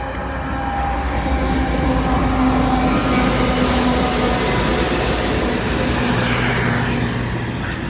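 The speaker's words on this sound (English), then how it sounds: "Check it out, it's the FRA train." An FRA special train rolls past on the rail line, a steady, loud rumble of wheels and engine holding throughout, with faint rail clatter and drawn-out tonal hums from the locomotives.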